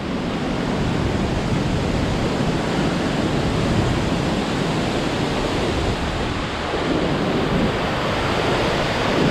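Strong hurricane wind during Hurricane Laura, a loud, continuous roaring rush with no breaks, filling the whole stretch without voices.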